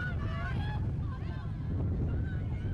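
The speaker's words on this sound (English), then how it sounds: "Not only is it windy, but the wind has changed direction." Strong wind roars steadily against the microphone, a constant low rumble with faint voices or sounds drifting over it, at an outdoor girls' varsity soccer state quarterfinal.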